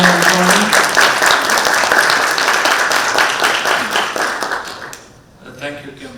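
Audience applause at an international forum session, a full, loud burst of many hands clapping that fades out near the end, followed by a voice beginning to speak.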